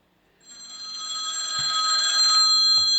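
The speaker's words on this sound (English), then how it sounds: "we'll ring it from another phone" A phone rings on a call placed to confirm a trimmed SIM card works: a bright electronic ringtone swells in after a short silence and keeps ringing steadily and loudly, with a couple of faint low knocks beneath it.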